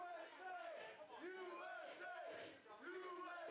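A wrestling crowd at a live event cheers and chants in rhythmic bursts, loud and sustained, with a commentator talking over it.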